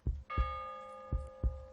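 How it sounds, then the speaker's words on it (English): A single deep bell rings once as a sound effect in a Macbeth audio drama, its tone ringing on under low, rhythmic heartbeat-like thuds, with no voices. "The bell invites me."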